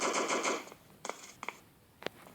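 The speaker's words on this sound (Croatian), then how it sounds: "Neko puca." Gunfire in the Block Strike online shooter game: a dense burst of rapid automatic shots for about half a second, followed by a few isolated single shots spaced out, sharp and moderately loud with no talking.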